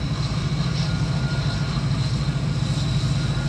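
A Union Pacific distributed power unit locomotive passes in Cheyenne, Wyoming, a steady, close, continuous engine rumble with a strong low drone and rail noise holding level throughout, no talking.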